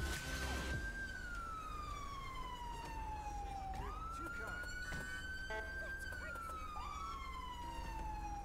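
A police car siren in the GTA video game wails in long rising and falling sweeps, loud and continuous, alongside game traffic noise.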